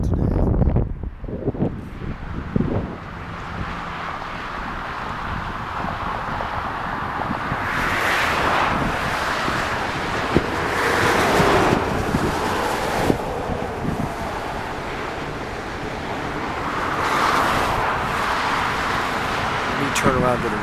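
Wind gusting across an airport runway in Visalia, California, roaring and buffeting the microphone in uneven surges over roughly twenty seconds, with brief clicks near the start and occasional faint vehicle noise in the background.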